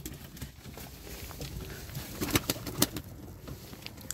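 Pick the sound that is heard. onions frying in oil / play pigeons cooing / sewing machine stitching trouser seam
play pigeons cooing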